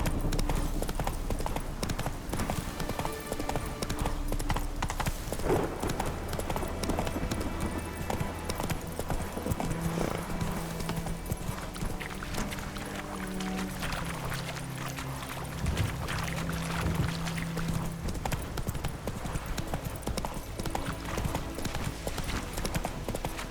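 Roach the horse trots in The Witcher 3, hooves clip-clopping in a steady rhythm close by over game ambience and music, continuing throughout with a brief softer stretch in the middle.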